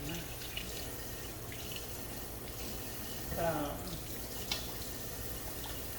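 Hands being washed under a running kitchen tap during home cooking, a steady close hiss of flowing water throughout with a brief splashy swell midway, no talking.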